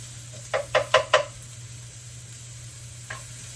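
Onions hit a hot pan and are stirred. Four quick scraping strokes sound close up over a soft, steady sizzle, followed by quiet frying and one faint final scrape.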